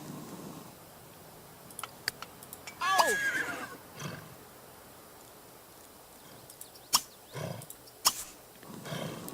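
A horse in The Sims 3 gives one clear whinny amid faint background clatter and scattered sharp thumps and clicks, moderately loud against a quiet bed.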